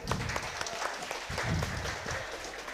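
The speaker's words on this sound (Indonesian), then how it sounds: "Kita aplaus dulu buat Kak Rudi." Applause from a studio audience at a radio talk show on elections in Makassar: a dense, continuous patter of clapping hands, moderately loud and close, lasting the whole moment without speech.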